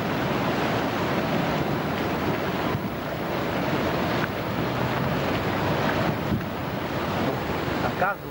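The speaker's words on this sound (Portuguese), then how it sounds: "Olha a água no rio. A água na estrada," Floodwater rushes loudly along a swollen river and across a road during a severe flood, a constant, dense roar mixed with wind buffeting the microphone.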